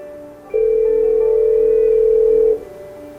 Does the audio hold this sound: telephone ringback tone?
yes